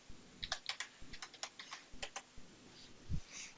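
A password typed on a computer keyboard, with a quick run of soft, close keystrokes in an irregular rhythm and a heavier key thump near the end, in an otherwise quiet room.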